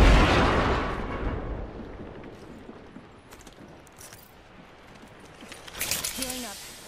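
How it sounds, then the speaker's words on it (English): A grenade explodes in the Apex Legends video game with a loud, close boom that rumbles and fades over several seconds, followed by scattered game effects. "Grenade."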